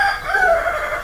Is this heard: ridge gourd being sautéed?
no